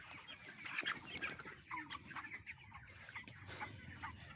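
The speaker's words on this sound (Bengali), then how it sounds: "নাহলে ব্রয়লার মুরগি এমনি গরম" Broiler chickens on a farm clucking, a flock of soft overlapping clucks and chirpy calls close by, continuous and fairly quiet with no talking.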